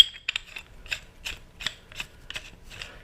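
A left bicycle pedal with reverse threads being unthreaded from its crank, a quiet series of about nine evenly spaced ratcheting metallic clicks, close and isolated.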